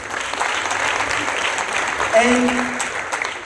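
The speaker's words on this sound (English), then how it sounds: "this is the applause I choose to skip" An audience claps in a dense, steady round of applause, with a voice briefly heard over it.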